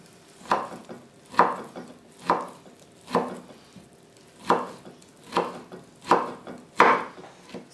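Knife chopping kale on a cutting board for a baked kale casserole: nine steady, evenly spaced chops close up in a quiet kitchen, with no talk.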